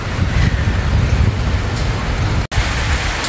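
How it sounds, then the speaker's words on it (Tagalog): Typhoon Uwan bringing wind and rain to Pilar, Bataan: a dense, continuous hiss of heavy rain with wind rumble, loud and steady, cut by a brief dropout near the end, no voices. "Nagpaparamdam na ang bagyo, may hangin na at ulan."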